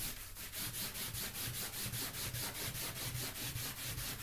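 Stain is rubbed onto vinyl fabric in a steady back-and-forth scrubbing rhythm, close and continuous, about nine strokes with no talking.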